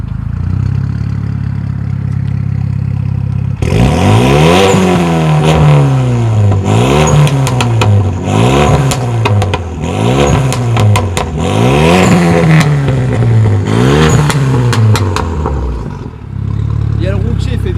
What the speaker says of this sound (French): on va écouter le magnifique son moteur